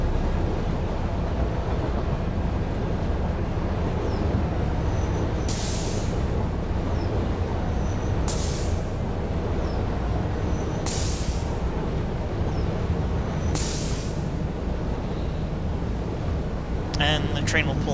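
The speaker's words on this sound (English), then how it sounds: "And the train will pull in the station over there." Train in the video game Satisfactory pulling into a station, a steady rolling rumble with several sharp hissing air-brake bursts at regular intervals, ending in a brief rattle.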